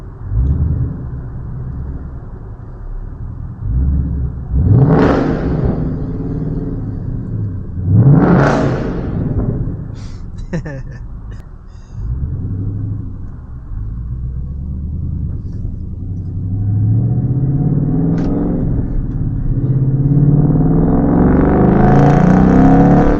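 A 2011 Ford Mustang GT V8 rumbles close by and is revved several times, sharp rising roars around the middle followed by a deep idle and a final climbing rev.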